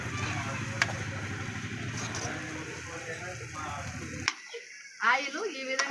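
Ground coriander and chilli powder cooking down in oil for a dried-fish tamarind curry with field beans and cluster beans, a steady close sizzle with stirring scrapes that breaks off abruptly near the end, followed by a few faint clinks.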